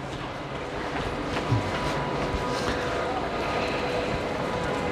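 A train rumbling at Halle (Saale) station in Germany, a steady low hum with faint clanks and a high whine over a busy background.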